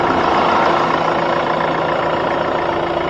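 A Hyundai Creta with a CRDi diesel engine idles steadily nearby, a constant low hum with an even mechanical drone and no voices over it.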